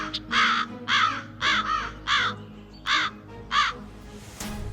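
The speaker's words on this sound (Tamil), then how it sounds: "உன் தலைக்கு மேல வட்டடிக்கிற இந்த காக்கா" A crow circling overhead caws repeatedly, seven or eight harsh, evenly spaced calls that ring out loud and clear over a quiet background.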